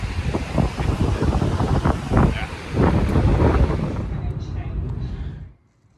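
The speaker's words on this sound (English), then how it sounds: "it's pretty windy" Strong, steady wind buffeting a microphone, with gusty rumbling throughout that drops away abruptly near the end.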